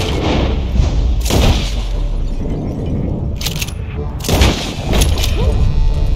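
Repeated gunshots from a revolver-style weapon in Red Dead Redemption 2, several loud booming bursts spaced a few seconds apart over a busy game soundscape with rumbling background noise.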